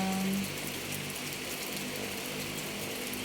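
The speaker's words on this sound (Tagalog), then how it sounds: "Yeah, it's ulan po dito sa amin." Rain falls outside a house during wet weather, a soft, even hiss that carries on steadily and stays faint and distant throughout, with no voices.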